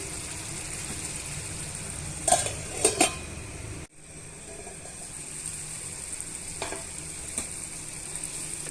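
Tomato egg curry cooking in a pan with a lid, a steady soft sizzle throughout, a few metallic clinks of the lid and utensils near the middle, then a brief drop as the lid closes before the simmering resumes.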